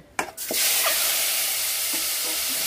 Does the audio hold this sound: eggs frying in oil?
yes